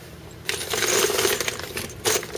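Once-fired .38 Special brass cartridge cases clink and rattle against each other in a bright, metallic jangle, with a short burst and a second shuffle near the end, close and clear with no talking.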